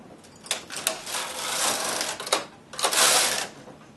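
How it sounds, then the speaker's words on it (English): A domestic knitting machine carriage slides across to knit two rows, giving two rasping, whirring passes with a brief break between them, close and fairly loud. "thread up the machine and knit 2 rows"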